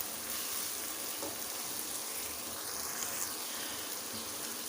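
Onion-tomato masala for white lobiya dal sizzles and fries steadily in a pan, a constant crackling hiss with faint stirring scrapes.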